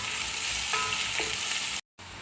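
Onions with whole garam masala spices sauté in hot oil for a spinach chicken curry, giving a loud, continuous close sizzle broken by a brief moment of silence near the end.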